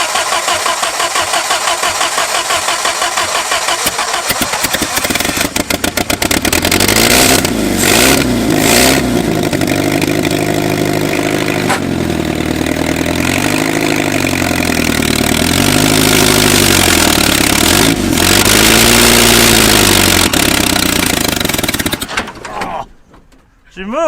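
An 80-year-old abandoned Jeep engine cranks, catches and runs, revving up and down in loud, rough surges close by before cutting off near the end.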